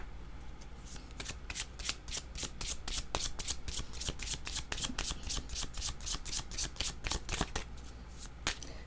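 Playing cards riffled and handled at close range, a steady stream of sharp papery flicks and snaps across the whole stretch, with no one talking.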